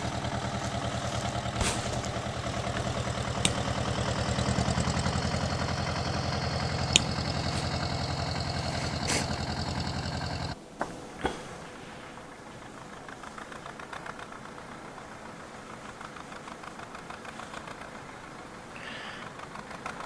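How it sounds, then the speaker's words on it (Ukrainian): A small engine of a vintage French mini tractor hauling firewood runs steadily with a chugging, clattering idle, loud at first, then drops off abruptly and continues more quietly with light mechanical ticking. "А це, друзі, французький міні-трактор теж е"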